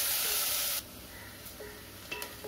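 Onions sautéing in a pan for a Tamil-style mochai kottai (field bean) kuzhambu, a loud broadband sizzle for the first moment that suddenly drops to a quieter, steady frying crackle with a few faint clinks.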